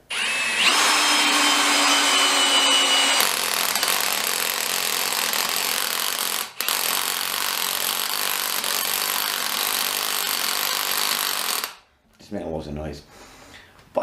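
A cordless drill, Milwaukee M18 or DeWalt, bores into wood with a loud, steady whine lasting about ten seconds and a brief dip partway through, then stops. Short rustling and handling noises follow.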